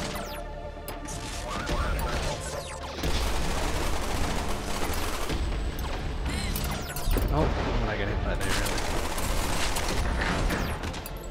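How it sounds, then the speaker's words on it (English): Wave cannon weapon in the shooter game Black Future '88 fires in a dense, continuous barrage of loud crashing blasts and mechanical clatter, with bursts surging around the third and seventh seconds amid busy game sound effects. "Wave cannon's pretty cool though."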